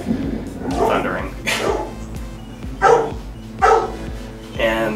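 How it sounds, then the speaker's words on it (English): A pet dog barks several times in the background, sharp separate woofs spaced about a second apart, fairly close and moderately loud. "You like my dog in the background?"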